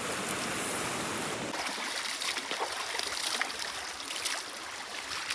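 River water flows in the Konkan countryside with a steady, soft rushing wash and faint trickles, quiet and continuous throughout.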